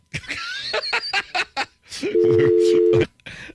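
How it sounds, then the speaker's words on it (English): A telephone dial tone sounds after a call is hung up: a steady flat tone for about a second, preceded by close chatter and laughter. "I think I hung up on Milo."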